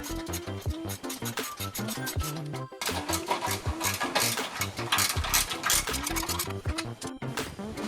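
A ratchet or power tool backing out bolts on a Toyota FJ Cruiser bumper, sped up into a fast, busy mechanical clatter of rapid repeated clicks and whirs that runs continuously.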